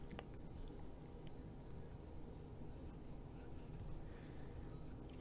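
An Esterbrook Estie fountain pen with a medium nib scratches faintly and steadily across paper, a soft continuous close-up rustle with no speech.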